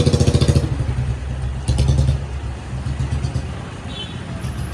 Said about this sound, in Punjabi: ਆਹ ਰੋਡ ਤੇ ਤੁਸੀਂ ਦੇਖ ਸਕਦੇ ਹੋ ਮੋਟਰਸਾਈਕਲ ਗੱਡੀਆਂ ਦਾ